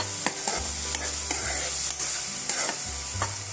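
Turmeric being stirred into a frying ladies finger (okra) curry, with steady sizzling broken by repeated scraping strokes of a spoon in the pan, close and continuous, no voices.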